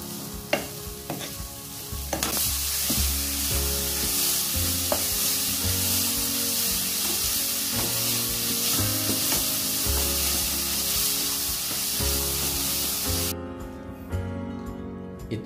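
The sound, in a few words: stirring shredded coconut with brown sugar in a pan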